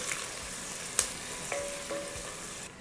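Green chilies frying in a pan for drumstick sambar, a soft steady sizzle with a couple of faint clicks and utensil taps, fairly quiet and alone.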